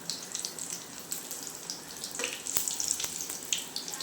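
Food sizzling in a frying pan on a gas stove at home, a steady faint crackle with scattered soft pops and spits, no voices.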